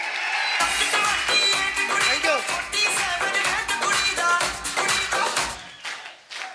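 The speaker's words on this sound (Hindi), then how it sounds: "इनके लिए जोरदार तालियां बनती कि नहीं बनती?" Audience applause at an event honouring a speaker, steady clapping under loud music with a heavy rhythmic beat, while someone briefly speaks over it.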